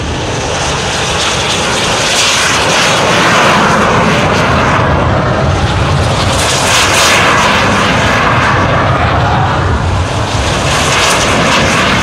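Airplane engines roar loud and steady as aircraft roll down the runway at the Farnborough International Air Display 2010, a continuous broadband drone that swells slightly without pause.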